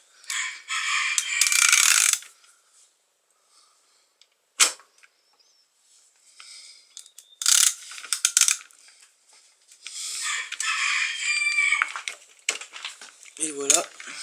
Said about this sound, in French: Et vous allez venir desserrer votre embrayage.